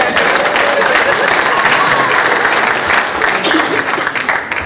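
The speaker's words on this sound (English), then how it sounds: "So give a round of applause for Roy" A chamber of commerce audience gives a round of applause to speaker Roy Dodson, loud sustained clapping from a crowd with faint murmuring mixed in, tapering slightly toward the end.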